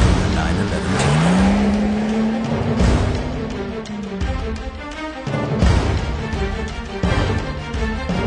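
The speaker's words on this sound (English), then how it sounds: "A bi-turbo engine provides for even more dynamic performance" The bi-turbo engine of a fifth-generation all-wheel-drive Porsche 911 Turbo accelerates with a rising, sweeping engine tone that swells and then eases off, backed by a steady background rumble.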